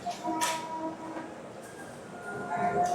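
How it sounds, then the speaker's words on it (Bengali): A train departing from a station platform rumbles along with steady rolling noise and faint tonal squeals, a couple of short sharper bursts standing out. "আমাদের ট্রেন রওনা দিয়ে দিয়েছে 14 নম্বর প্ল্যাটফর্ম থেকে"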